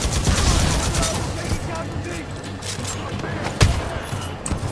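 Sustained weapon fire crackles in a sci-fi video game battle, a steady stream of rapid shots with one sharper boom near the end, while voices talk faintly underneath.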